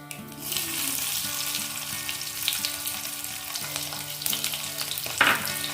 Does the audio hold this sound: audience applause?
no